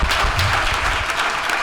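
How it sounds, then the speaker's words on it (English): An audience at a book event gives a short, dense round of applause for civil rights attorney Ben Crump, steady clapping with no talk. "let's give Ben Crump a round of applause."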